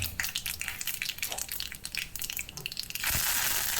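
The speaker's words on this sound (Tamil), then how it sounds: "கடாய் எடுத்து அதில் எண்ணெய் ஊற்றி எண்ணெய் சூடானதுமே கடுகு பொரிஞ்சதுமே உளுந்து ஆட் பண்ணிக்கலாம்." Mustard seeds and urad dal fry in hot oil in a kadai while making curry leaf chutney, giving a dense, close crackle and sizzle with scattered pops that swells into a loud, steady hiss near the end.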